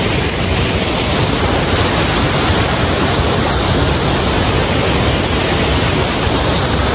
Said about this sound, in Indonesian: Berasa dikelilingin sama air terjun.